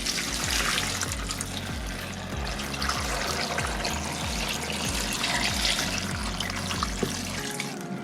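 Water pours steadily for several seconds, a continuous close splashing trickle with gurgling pulses, loud and alone with no talking.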